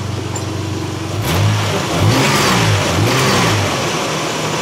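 Nissan Xterra 3.3 engine running smoothly after new main and rod bearings, a steady idle that rises in a few rev swells before settling, loud and close with no talk.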